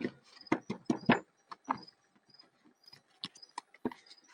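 Cricket chirping at night indoors, short faint chirps repeating in an irregular rhythm, with soft clicks and shuffling around it and no speech.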